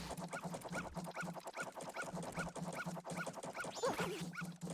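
A dog in the video game Majora's Mask barks and yips in a steady, rapid repeating rhythm for the whole stretch, loud and close, over a low game hum.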